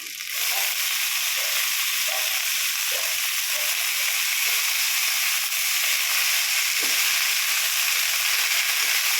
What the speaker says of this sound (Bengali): এবারে আমি কেটে রাখা সবজিটা অ্যাড করে দেবো।